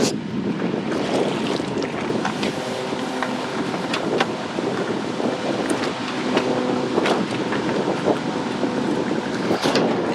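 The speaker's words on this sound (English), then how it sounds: "We're getting like a 15-mile-an-hour wind." Steady wind of about 15 mph rushes and buffets across the microphone on a fishing boat on open water, with a constant engine-like drone and faint water slaps beneath.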